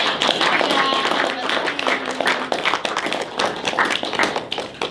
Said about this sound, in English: let's give a round of applause to our special guest